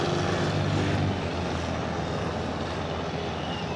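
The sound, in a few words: airplane flying in to land on the beach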